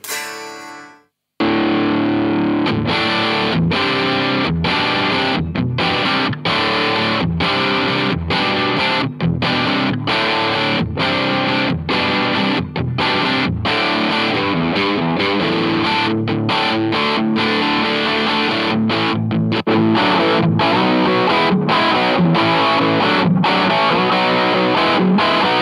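Jazzmaster electric guitar through a Marshall amp, gain on full and master nearly full, played as a heavily distorted, sustained wall of chords with rapid choppy stops and restarts, loud and continuous for over twenty seconds after a brief quiet start.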